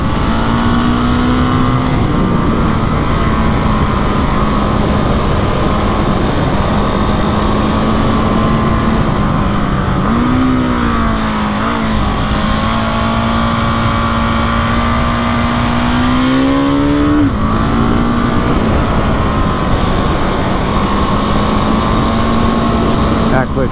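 KTM 701 Enduro single-cylinder motorcycle engine droning loudly while riding, pitch rising and falling through quick-shifter gear changes, under wind noise and a rider talking.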